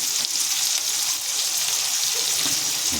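Small onions and garlic sauté in oil in a pan for a broccoli and potato gravy, giving a steady, close, bright sizzling hiss with faint stirring movements underneath.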